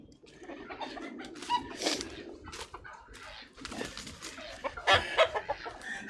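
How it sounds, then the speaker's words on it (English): Chickens clucking close by, several birds calling in short irregular bursts, with a louder rooster-like call near the end over a busy outdoor background. "Rooster says hi."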